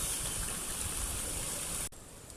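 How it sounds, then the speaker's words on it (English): Water rushes continuously from a waterfall and stream swollen after rain, a broad steady roar that cuts abruptly near the end to a quieter flow. "The waterfall through there is fantastic."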